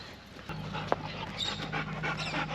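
Dogs panting steadily beside a parked car while camping on the Eyre Peninsula, South Australia, a close rhythmic breathing with a brief sharp whimper or yelp early on and a low hum underneath.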